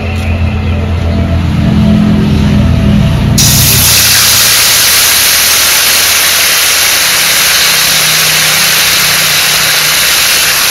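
Cumin seeds hitting hot oil in a pan for a Bengali prawn and pointed gourd poppy-seed dish, giving a loud, steady broadband sizzle that jumps up sharply after a few seconds and holds close and continuous.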